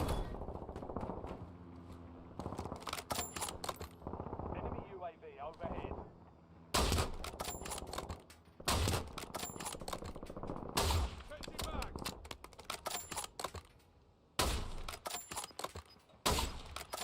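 Rapid bursts of gunfire in Call of Duty Warzone, loud repeated volleys with short gaps between them, mixed with game ambience and occasional heavy thuds over roughly seventeen seconds.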